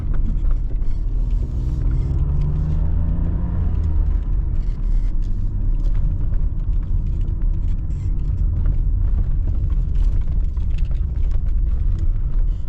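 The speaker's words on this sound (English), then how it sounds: "Let's drive it a little bit here, outside of the roads." A BMW E34 520i 24V sedan drives off the paved road, its engine rumbling loudly and steadily from inside the cabin, with revs climbing and falling in the first few seconds before settling into a continuous low drone, no voices.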